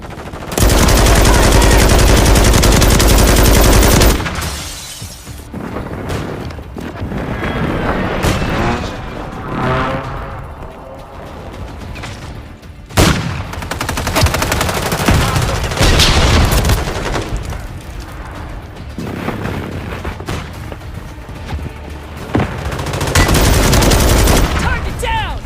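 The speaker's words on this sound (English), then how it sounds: "Taking fire!" Loud video game gunfire: heavy bursts of automatic fire and booming shots come in waves with quieter gaps, while voices call out over the battle.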